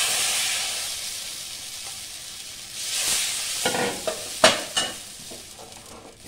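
A green chilka mixture frying in an oiled pan, with a soft sizzle under several sharp scrapes and knocks of a spatula stirring it gently.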